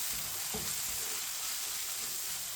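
Ground spices such as turmeric, red chilli, whole coriander and cumin fry in a pan for aloo baingan, a continuous close sizzle with a brief scrape of a spoon stirring, no talking.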